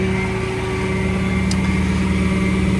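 Engine of an Elliott L65 bucket truck running at high idle, a steady, loud, even drone with a constant low hum throughout and no change in pace.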